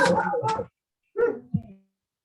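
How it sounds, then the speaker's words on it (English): Dogs walking in front of a house bark and yip outside, with a burst of barks, a short gap, then a couple more barks and a whine, fairly close and clear. "I've got 2 dogs walking in front of my house."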